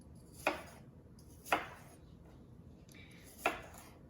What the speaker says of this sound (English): you basically just want to make sure that you are dicing these up